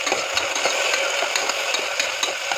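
Onions fry in a pan with a constant dense sizzle, and quick stirring knocks repeat at a steady rhythm throughout; no one speaks.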